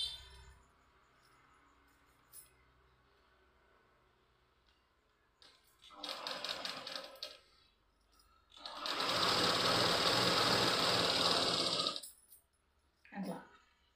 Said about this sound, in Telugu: ఇట్లా ఇప్పుడు నేనైతే మిషన్ కుట్టు వేసేస్తున్నా.